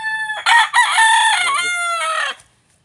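Close, loud crowing from a wild red junglefowl: a single multi-part call with a clipped start and a drawn-out ending, then silence.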